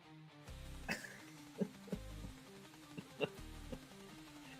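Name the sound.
coughing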